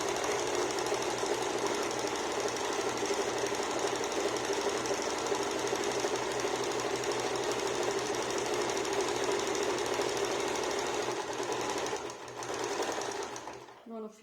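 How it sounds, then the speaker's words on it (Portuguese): A sewing machine runs steadily at speed, stitching fabric for a multipurpose bag or bread holder, a continuous loud mechanical whir that slows and stops near the end, with someone speaking over it. "Então aqui a gente vai fazer pé de máquina."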